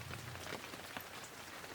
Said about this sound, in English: The strongest eastern rains then began to strike down on the poor monkey, who was already very wet.